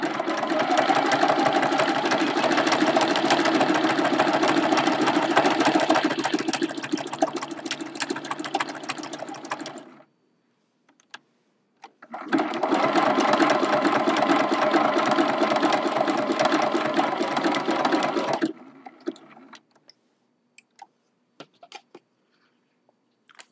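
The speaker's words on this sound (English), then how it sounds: "Look how quick that zigzag stitch goes along." Sewing machine stitching a zigzag at speed, a fast, even mechanical whir running about ten seconds, pausing, then running again for several seconds before stopping, close and clear.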